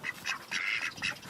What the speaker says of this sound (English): in the background you can hear our guinea geese, the machine gun sound that you hear occasionally